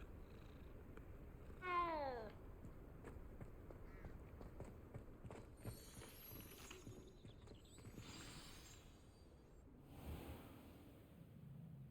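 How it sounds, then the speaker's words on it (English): A cat in the Hogwarts Legacy video game gives a single clear meow, then purrs softly and steadily for several seconds under quiet background game ambience and light mechanical sounds. "Not before we pet the cat."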